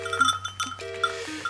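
Goats on a farm give a few short, nasal bleats in quick succession, close and fairly loud, with brief pauses between calls.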